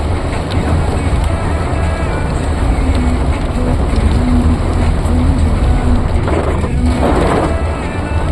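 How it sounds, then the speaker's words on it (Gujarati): Steady rain pouring down outdoors, a dense continuous hiss of drops hitting surfaces nearby, with a faint low hum underneath and brief louder splashy bursts near the end. "વરસાદ ચાલુ હતો"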